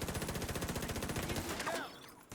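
Automatic gunfire in The Division 2, a tactical shooter game: a fast, even rattle of shots in a steady burst that cuts off near the end, fairly loud with no speech.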